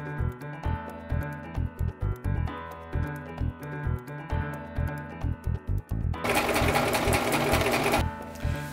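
Sewing machine stitching the back panels of corduroy pants, running in short rhythmic bursts with brief pauses, then one longer continuous run near the end.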